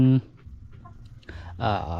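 Egg-laying hens cluck in short bursts close by, heard between and under a person talking nearby.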